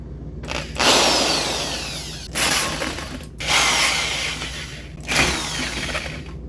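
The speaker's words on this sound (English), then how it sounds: "I'm going to drill out" A power drill whines and grinds in four separate bursts, each start sharp and loud, with short pauses between, close by.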